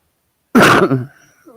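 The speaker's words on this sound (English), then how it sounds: "Sorry for coughing." A single short, harsh cough bursts out close up, followed by a brief throaty trailing sound, then quiet.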